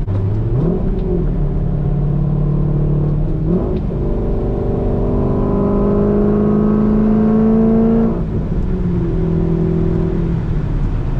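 A cammed C5 Corvette engine idles and lugs at very low RPM inside the car, a loud steady rumble whose pitch surges and sags in hesitant waves.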